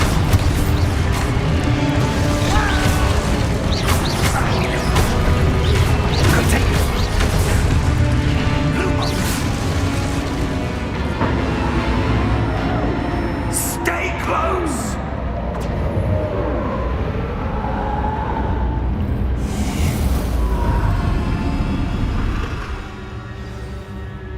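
Spell blasts and explosions from the video game Hogwarts Legacy: a dense run of crashing booms, whooshes and impacts, loud and continuous at first, then thinning into scattered hits and a tail of softer effects, with a voice shouting spell names throughout.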